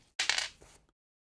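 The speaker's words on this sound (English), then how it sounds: "Let's roll some dice." Dice rattle and clatter briefly on a tabletop for a tabletop miniatures game roll, one short quiet tumble settling within a second.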